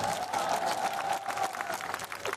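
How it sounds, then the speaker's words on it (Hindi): Brief audience clapping for a speaker, a dense patter of hands with a faint voice underneath, fairly quiet and steady. "मेरे लिए ताली हो जाए यार"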